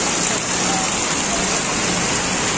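Torrential rain falling in Virar, a thick continuous wash of drops drumming on surfaces nearby, loud and steady throughout without speech.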